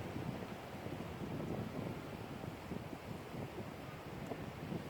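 Wind gusting across the microphone over an agitated sea, a broad, constant rushing wash of waves and air, faint and unbroken throughout, with no voices.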